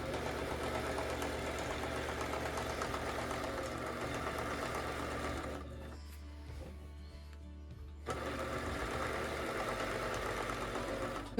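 A sewing machine stitches in the ditch through a quilt backed with a dryer sheet, running with a steady mechanical whir that stops for about two seconds and then starts again, close and continuous with no talking.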